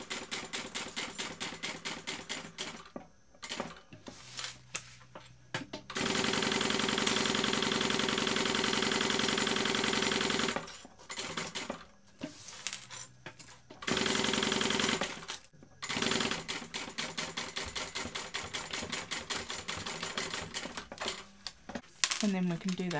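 A domestic sewing machine backstitches across zipper tape while making a bag, its motor whirring in steady bursts of several seconds separated by short pauses and faint handling clicks.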